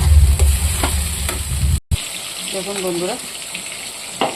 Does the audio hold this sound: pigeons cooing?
no